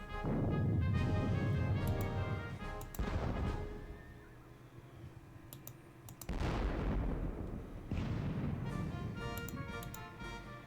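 Artillery volleys in a turn-based wargame of the Battle of Borodino, several loud booming bursts with rumbling decay spaced a few seconds apart, no voices over them.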